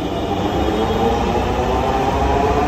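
A Dhaka metro rail train at the Agargaon platform, a steady, close rumbling roar of rolling carriages with a faint high whine, continuous throughout and with no voices.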